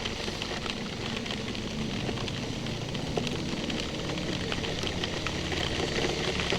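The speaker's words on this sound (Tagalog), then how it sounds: "Sobrang lakas talaga ng ulan" Heavy typhoon rain from Typhoon Crising on a flooded road near Quezon City makes a dense, constant hiss of downpour, steady and loud throughout with no speech.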